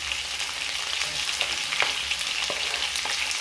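Onions sizzling in a hot pan alongside carrots and potatoes, a steady loud crackling hiss that runs without a break, with faint stirring scrapes now and then.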